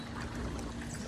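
Water in a swimming pool sloshes and splashes in a dense, continuous wash, loud and near with no clear individual drips.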